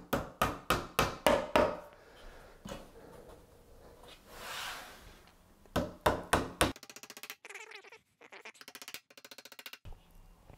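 Sharp hammer blows drive rivets while assembling an Ikea Malm chest of drawers, landing in quick bursts of five or six, separated by pauses and softer rustling, with a rapid tapping run near the end.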